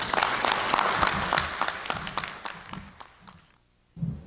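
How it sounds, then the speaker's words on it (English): Audience applause at a veterans appreciation day and bicentennial celebration in Baldwin County, a hall full of clapping hands that stays strong for a few seconds, fades out near the end, then gives way to a voice. "Would you all give her a big round of applause?"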